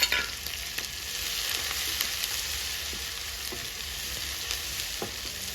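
Ground ginger and garlic paste roasting in a pan for a pumpkin curry, a continuous close sizzle with occasional light stirring taps, steady and fairly quiet, no voices.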